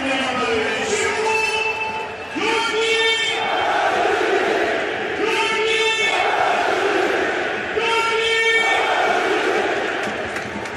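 IFK Göteborg supporters in a packed stadium roar and chant in loud, swelling waves after a stoppage-time free-kick goal against AIK, a sustained rhythmic crowd chorus filling the whole stretch.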